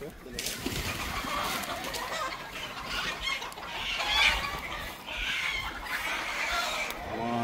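Gamefowl roosters and battle stags cluck and call at a range in a steady, busy farmyard chorus, with voices talking over the birds throughout.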